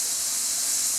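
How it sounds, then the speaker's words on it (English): Food sizzles in a hot pan on a CSA farm cooking show: a steady, close, bright hiss with no break and no voices. "Love that sizzle."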